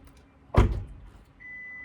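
Maruti Suzuki Baleno Zeta with keyless entry unlocking: a single sharp mechanical clunk of the door locks, followed by a thin steady electronic tone.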